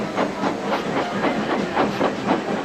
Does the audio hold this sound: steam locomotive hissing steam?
yes